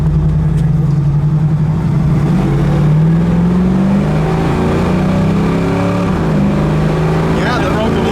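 A loud car engine revs up steadily, its pitch climbing through the gears in a continuous close roar.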